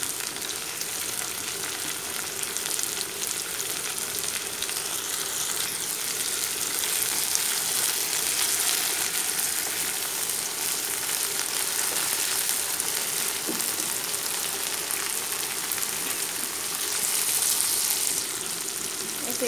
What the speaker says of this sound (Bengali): এখানে চিংড়ি মাছটা দিয়ে ভাজি